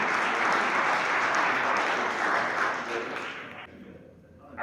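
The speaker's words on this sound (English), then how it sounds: "One more round of applause for him." A crowd at a high school bass fishing combine claps steadily and loudly in sustained applause, which thins and fades out near the end.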